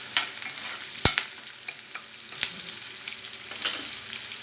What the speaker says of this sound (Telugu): కరివేపాకు ఇవన్నీ వేసేసుకున్నాక తర్వాత ఇవ్వండి ఇది సేమియా కూడా వేసి వేగిస్తాం.